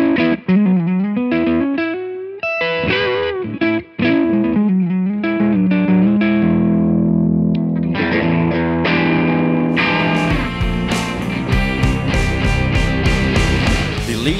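Electric guitar played through a Peavey ValveKing tube amplifier, with a loud, continuous run of driven chords and notes that turns thicker and more heavily distorted in the later part.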